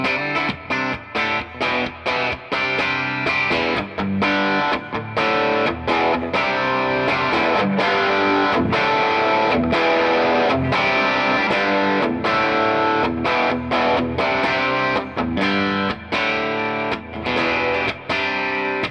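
An Elliott Tonemaster electric guitar played through a Benson Monarch amp, a steady run of distorted, richly harmonic picked chords and notes with brief gaps between strums, loud and continuous without talk.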